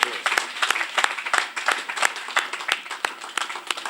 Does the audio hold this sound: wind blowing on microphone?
no